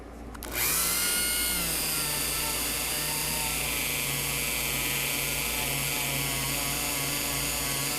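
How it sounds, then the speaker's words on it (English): A Dremel rotary tool with a small buffing wheel polishes guitar frets, snapping on after a brief pause into a steady, close, high-pitched whine that holds evenly to the end. "This is just polish on a Dremel with a little buffing wheel."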